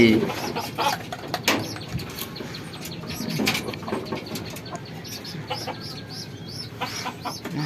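Jalali pigeons coo and flutter close by at a home loft, soft throaty calls mixed with wing flaps and scuffling, while a person talks intermittently over them.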